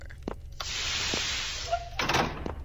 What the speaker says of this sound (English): leads to another dark hallway